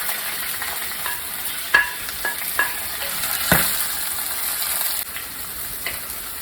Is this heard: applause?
no